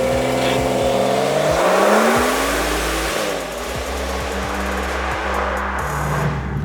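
A car engine revving hard at full throttle up toward 7,000 rpm, heard from inside the cabin as a loud, continuous rising and falling drone that runs through the whole stretch without talk.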